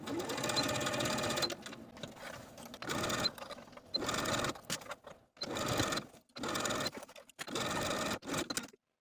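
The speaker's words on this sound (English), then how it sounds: "Then we're going to pivot our stitching to edge stitch close to the armhole hem all the way around." A sewing machine edge stitches around the armhole hem of a top, running in several loud, steady bursts with short pauses between them as the fabric is pivoted and guided.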